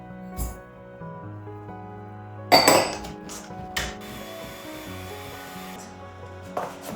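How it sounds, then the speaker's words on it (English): Butter and sugar are beaten in a bowl for an orange cake, with a few scattered scrapes, knocks and clinks against the bowl amid quiet pauses. "we're going to beat butter, 200 grams, with 200 grams of sugar"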